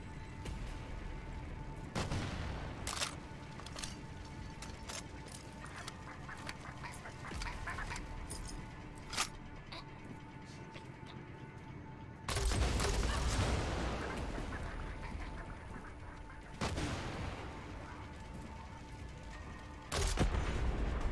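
Far Cry 6 gameplay gunfire crackles in dense, loud bursts, with long sustained volleys and separate sharp shots spread across the scene.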